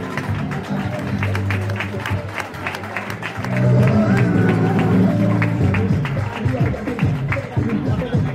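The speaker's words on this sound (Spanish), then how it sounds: "Fuerte aplauso para ella." Audience applause for a poet at a Murcia community event, with dense clapping and crowd noise over a low hum that swells partway through, and voices audible underneath.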